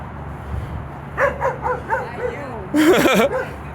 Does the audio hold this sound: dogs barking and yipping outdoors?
yes